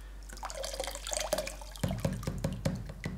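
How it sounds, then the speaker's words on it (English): Water drains from a lifted hose pipe, running briefly and then breaking into a series of distinct splashy drips and gurgles. "Now, we just need to lift up our hose pipe, make sure all the water is out of it."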